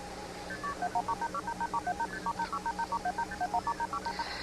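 A telephone keypad dials a long run of quick touch-tone beeps at shifting pitches, evenly paced and moderately loud, ending in a brief hiss with no voices.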